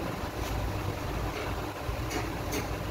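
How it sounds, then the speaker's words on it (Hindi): A Hero Splendor Pro motorcycle engine with a failed crank idling nearby, a rough, uneven low rumble with irregular knocking pulses running continuously. "क्रैंक फेल होने से इसी तरह साउंड रहता"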